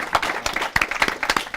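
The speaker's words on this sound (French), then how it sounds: "On va les applaudir." Short burst of clapping for players at a French esports cup tournament, a few uneven claps from a small group, close and brief.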